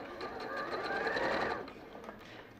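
Domestic sewing machine running a top stitch and edge stitch at stitch length three, a brief steady whirring burst that rises, holds for about a second and then slows and fades.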